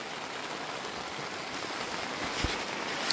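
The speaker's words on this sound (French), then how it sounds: "on s'est fait surprendre par la pluie" Rain falls on a campsite tent, a steady dense patter with a few louder drops, close and continuous with no voices.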